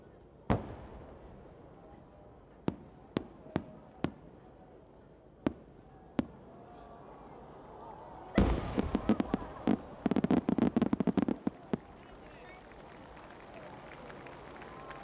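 Sanshakudama and smaller shells burst over the Nagaoka fireworks festival near the lit-up Chōsei Bridge: scattered sharp booms echo at distance, then a dense crackling barrage of rapid reports swells and fades over a murmuring crowd.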